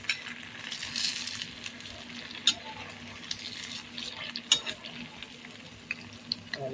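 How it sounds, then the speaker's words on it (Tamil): Idli pieces deep frying in oil give a steady, moderate sizzle with faint bubbling, and a few sharp clinks from a utensil cut in now and then, with no one speaking. "நம்ம வச்சுருக்கிற எண்ணெய்க்கு தகுந்த மாதிரி நம்ம இட்லியை சேர்த்துக்கலாம்."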